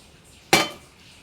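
A single metallic clank as a frying pan for vada is set down on a kitchen stove, a short bright knock that rings briefly and fades against a quiet room.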